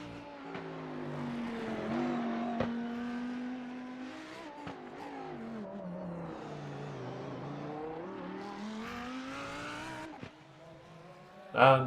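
A GT3 race car in the iRacing sim howls through a lap on the Long Beach street circuit, engine note rising and falling steadily with gear changes, ending in a sharp burst of revs.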